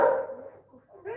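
A dog barks at a noise outside, a loud close bark that tails off, followed by a second softer yelp near the end; indoors during a home workout.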